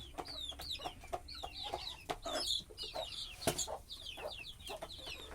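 A rooster clucks softly and irregularly among a flock of Egyptian-breed chicks peeping in high, busy chirps, all fairly quiet and close, in a home backyard.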